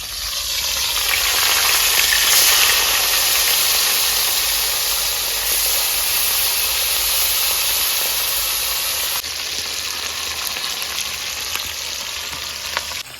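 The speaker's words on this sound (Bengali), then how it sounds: "পুরো তেল গরম হয়ে গেছে মাছটা দিয়ে দেবো" Khaira fish sizzling loudly in a pan of hot oil, a dense continuous frying hiss with bubbling crackle, close and steady throughout with no talk.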